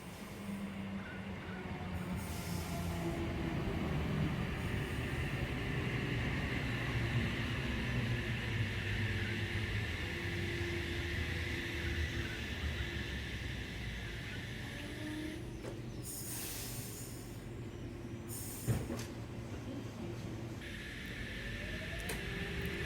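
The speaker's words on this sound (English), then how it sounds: "Here we have a Hamilton Newcastle bound Oscar arriving into platform number 2" NSW Trainlink Oscar set H16, a Hamilton–Newcastle service, rolls into platform 2 at Cowan station during the morning peak: a steady low rumble and rolling hum that sustains throughout, with a brief hiss and a sharp clank near the end.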